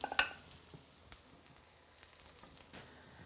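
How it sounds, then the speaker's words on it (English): Soft, steady sizzling from fish cakes frying in a hot pan on medium heat, faint and continuous, with a few light clicks near the start. "Listen to that wonderful sizzle because you need your pan nice and hot."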